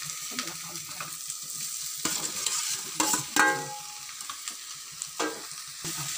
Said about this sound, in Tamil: இப்போ நம்ம மரவள்ளிக்கிழங்கை ஆட் பண்ணிக்கலாம்.